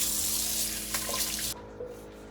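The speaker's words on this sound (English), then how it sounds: "Rinse off my hand." Tap water runs steadily into a kitchen sink while a hand is rinsed under it, a close, continuous splashing hiss that cuts off abruptly partway through, leaving faint drips and room noise.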